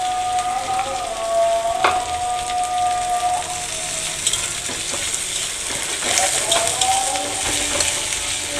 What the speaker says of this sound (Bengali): দিয়ে একটু ভেজে নিলাম